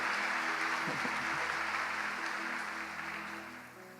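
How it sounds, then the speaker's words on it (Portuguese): A church congregation applauds together in a steady, dense wash of clapping that stays loud before gradually thinning out toward the end, with no voices above it. "Você pode aplaudir ao Senhor?"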